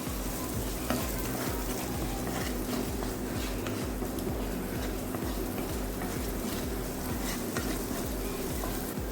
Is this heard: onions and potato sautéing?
yes